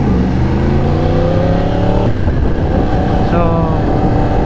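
A 2019 Yamaha R1 sport motorcycle engine revs hard and close, rising in pitch through the gears with a brief drop between shifts, loud and sustained throughout.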